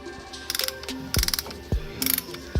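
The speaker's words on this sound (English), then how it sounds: "I'm compressing the caliper pistons, and since it's a dual piston setup, I have to have this special tool to compress them both at the same time." A ratcheting compressor tool clicks in short rapid bursts while pushing back the pistons of a dual-piston brake caliper, with close metallic clacks and a few sharp knocks between strokes.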